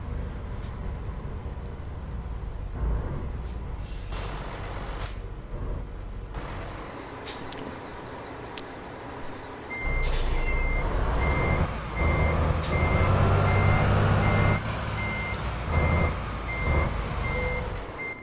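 A MAN F2000 truck in Euro Truck Simulator 2 backs up to couple with a trailer, its steady reversing beeps repeating over a low diesel rumble, with air brake hisses and a louder engine surge midway.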